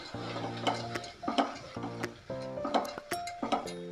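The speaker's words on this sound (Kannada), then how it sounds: "ಸೇರಿಸಿ ಈಗ ಒಳ್ಳೆಯದನ್ನು ಮಿಕ್ಸ್ ಕೊಡೋಣ." Dal is stirred with turmeric powder in a pan, giving a run of repeated scraping strokes about every half second, close and clear, with steady music playing underneath.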